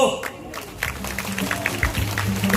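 At the opening ceremony of a herbal bio expo in Jecheon, an audience claps in a loose, continuous patter of overlapping handclaps that sounds moderately close, with voices and a low hum mixed in beneath.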